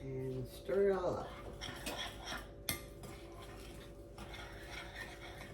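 A utensil scrapes and clinks against a bowl while a meatball mixture with egg is stirred. The scraping is close and irregular, and a voice speaks over it.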